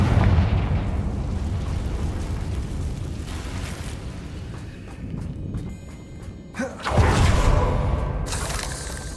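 Fiery spell explosions go off in Hogwarts Legacy: a rumbling blast opens, the noise settles into a low roar, then a second loud burst erupts near the end.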